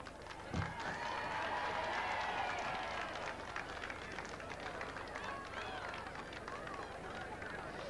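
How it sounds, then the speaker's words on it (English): A large crowd of about 14,000 cheers and claps at the Wimbledon tennis tournament. A sustained roar of voices and applause swells early, then continues at a steady level. A thump is heard near the start. "They cheered and clapped as she took her place in the royal box."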